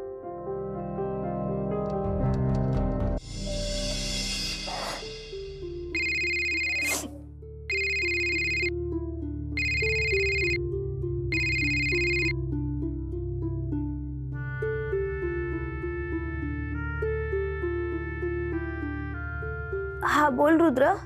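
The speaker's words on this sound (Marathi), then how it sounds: "मी फोन करून विचारतो तिला." A phone ringing on an outgoing call, heard as four short, evenly spaced ringing bursts over a steady musical background score, with a brief sharp chime near the end.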